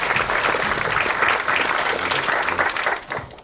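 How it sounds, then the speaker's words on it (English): Audience applauding panel speakers at a women's health event, loud and dense clapping from a crowd sustained for about three seconds before it starts to fade. "Please give these ladies a round of applause."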